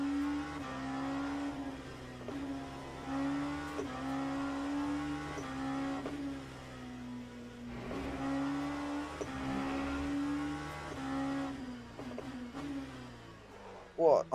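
In the Le Mans Ultimate racing game, a race car engine screams through the rev range, shifting and dropping pitch repeatedly as it brakes late for corners, with a steady rising-and-falling pattern at moderate volume.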